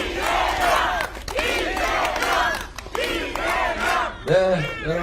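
Crowd at a political rally in Gunsan cheering and shouting together, a loud sustained roar of many voices rising and falling in waves over five seconds.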